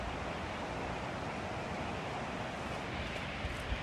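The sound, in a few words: Chagrin River flowing water by the riverbank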